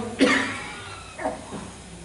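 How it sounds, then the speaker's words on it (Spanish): A single sharp cough near the start, followed by a couple of softer throat sounds, all close by with no talking. "Un poquito de tos interrumpirá de vez en cuando."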